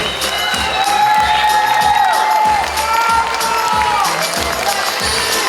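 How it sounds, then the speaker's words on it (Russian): A concert audience at a Cossack song ensemble's anniversary show applauds and cheers loudly, with rhythmic clapping and rising whoops filling the hall continuously. "Ваши аплодисменты, дорогие друзья!"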